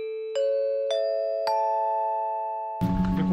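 Four-tone ping-pong-pan-pon announcement chime, rising bright electronic notes struck one after another, each ringing on and overlapping, clean and close, before a burst of outdoor noise breaks in.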